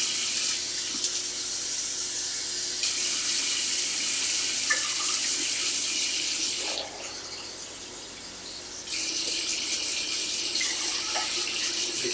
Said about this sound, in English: now we're going to put about 3 cups of water in here.